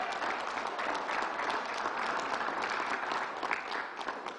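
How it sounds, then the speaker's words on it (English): Steady crowd applause at an outdoor government announcement in Rochdale Village, Queens, a dense, even clapping wash that holds throughout, moderately distant. "Let's give a big round of applause."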